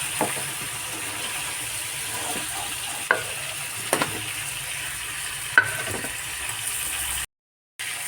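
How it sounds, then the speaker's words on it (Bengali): Fish and prawns frying in oil in a wok, giving a steady close sizzle and hiss with occasional sharp pops and utensil taps, cut by a brief silent gap near the end. "কড়াইতে দেখুন ঘিলুটা এখনো ভাজা হচ্ছে"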